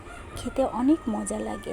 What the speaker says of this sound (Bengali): আর পাশের বাড়ির একটা মোরগ কিছুক্ষণ পর পর ডাকা শুরু করে দেয়